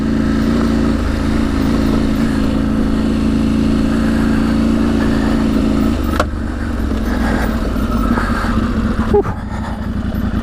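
KTM 790 Adventure motorcycle ridden along the rough off-road Claerwen Reservoir trail in Wales, its engine droning steadily and loudly throughout with small shifts in revs and a couple of sharp bumps or knocks near the end.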